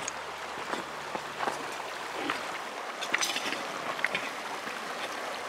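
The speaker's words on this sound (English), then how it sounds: "Filming the river." A river at Kelly Island in Missoula, Montana runs as a steady, broad wash of flowing water close by, with scattered small splashes and no talking.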